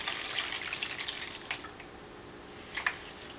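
Water is poured from a small vessel into an onion seedling tray, producing a light trickle and splashing at first that fades, then one brief splash near the end.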